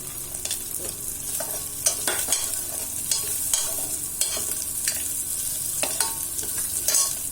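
Cashew nuts fry in a pan for brinjal pulao, with a constant close sizzle and frequent sharp scraping stirs at an irregular pace, without speech.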